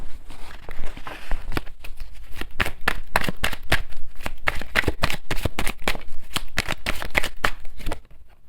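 Tarot cards being shuffled by hand in a rapid run of crisp riffling slaps and soft paper flutters, close and steady for about eight seconds before stopping abruptly, with no talking.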